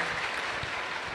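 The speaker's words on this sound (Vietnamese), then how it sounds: "xin bạn hãy dành một tràng pháo tay thật lớn hơn nữa để cảm ơn các bạn khóa sinh" An audience at a summer retreat program at a temple applauds, a steady, dense wash of clapping heard close and continuous with no voices over it.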